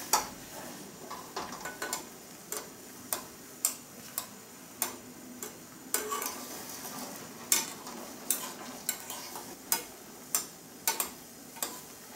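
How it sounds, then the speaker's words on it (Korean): A spoon clinks and scrapes rhythmically against a pot while eggs are stirred and rolled in simmering soy braising sauce, with steady repeated taps over a faint bubbling background and no talk. "이렇게 저어주시면서 굴려주시면서 돌려주시면서 정성이 쏟아야겠죠."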